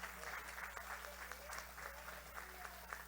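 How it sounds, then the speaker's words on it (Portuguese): Church congregation applauding during a vow-renewal service, a soft, distant patter of many hands clapping evenly over low room hum. "pode aplaudir."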